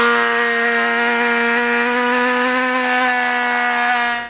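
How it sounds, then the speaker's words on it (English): Dremel rotary tool cuts through a plastic air deflector on a 2014 Ford F-250, a steady high-pitched whine held loud and close for several seconds before cutting off abruptly. "We're going to be using a Dremel tool to remove this material."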